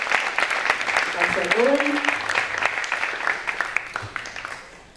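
Audience applause fills a hall during a 50th anniversary celebration of the Fidapa Capri section, steady dense clapping throughout with a speaker briefly talking over it before it fades.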